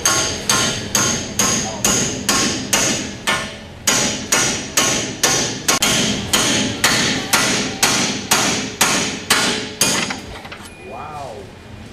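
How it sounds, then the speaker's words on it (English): A pickle fork is hammered into the upper ball joint of a 2006 Chrysler Sebring, about twenty sharp, evenly spaced metallic strikes ringing close and loud, then they stop and a brief squeak follows. "Okay, so we're using the pickle fork."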